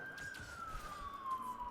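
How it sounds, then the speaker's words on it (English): A police siren wails faintly from outside, one long tone sliding slowly downward as it passes at a distance, heard behind quiet indoor background noise. "I'm sorry for the sirens in the background."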